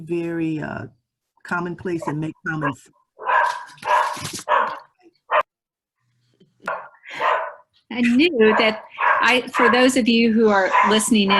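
A dog barks and yips several times during an online town hall meeting, mixed in with continuous speech from a person talking.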